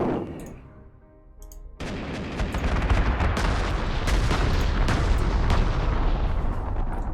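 Bombing attack on enemy units in Panzer Corps 2 near Moscow: after a short quiet lull, a heavy, continuous barrage of explosions and artillery-like blasts erupts and rumbles on loudly.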